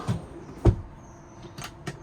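Push-button drawer on a 2025 Lance 975 truck camper clicking and sliding open, a few sharp knocks and soft thuds at close range, with a quiet room around them.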